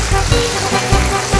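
Garlic and onion hit a hot pan for a simple pochero and sizzle loudly and continuously close by, with a dense frying hiss throughout.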